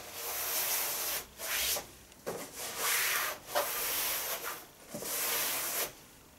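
A drawing is wiped clean with a cloth in repeated rubbing strokes, each a soft, close, hissing swish separated by short pauses. The strokes sound quiet and come alone, without talk.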